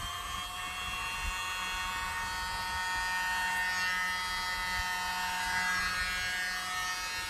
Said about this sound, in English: So I got my little blower, and let's see what we can get.